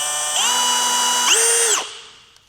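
A power drill whines steadily while drilling partway into plastic on a Jeep ball joint, then its pitch jumps higher for a moment before the motor cuts off and winds down to silence.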